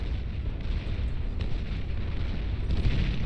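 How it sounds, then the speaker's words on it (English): A Cerberus unit in the strategy game Beyond All Reason fires high-powered rounds from its three heads, a dense, continuous roar of heavy booming blasts that stays loud and rumbling throughout. "There goes that Cerberus firing away with all three of its devastating heads."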